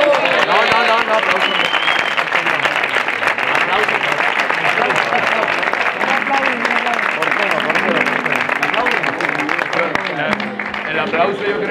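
A street audience at the 2018 Cádiz carnival applauds a chirigota, loud continuous clapping and crowd noise throughout, with voices speaking over it.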